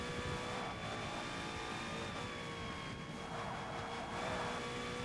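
Car engine in Forza Motorsport, a steady sustained drone with tonal whine and faint shifting revs, held at an even, fairly quiet level for the whole stretch.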